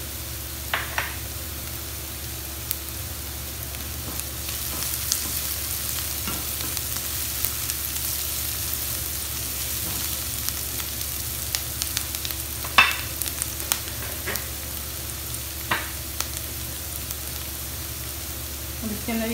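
Onions softened in a pan sizzle and fry steadily with white cumin seeds added, a constant close hiss with occasional light stirring clicks, no talking.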